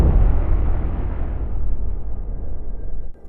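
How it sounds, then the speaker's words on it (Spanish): A huge blast at the Beirut port roars out as a dense, sustained low rumble that holds loud for about three seconds before cutting off abruptly, with no voices present. "esta fue una de las explosiones no nucleares más grandes de la historia de la humanidad y destruyó Beirut por completo"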